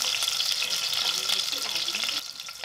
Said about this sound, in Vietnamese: mình cho hai cái cây xả cây vào trong dầu nè